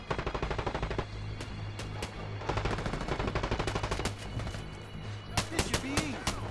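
Gunfire in the mobile shooter game The Division: Resurgence, with rapid automatic bursts and repeated single shots in a loud, sustained firefight, mixed with game sound effects.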